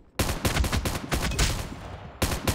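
M4 rifle fire in Call of Duty Mobile during a Search and Destroy match: a long, close, loud fully automatic burst of rapid shots, a brief pause, then a second burst starts.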